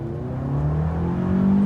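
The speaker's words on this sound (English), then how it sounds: "I'm going to put it in sport mode just for this demonstration." A 2019 Toyota RAV4 with an 8-speed transmission accelerating in sport mode, its engine note rising steadily in a close, continuous drone with no talking.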